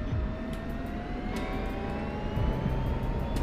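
F-16 jet engine at full throttle during takeoff in the DCS flight simulator, a steady loud roar with rising whine tones and no speech.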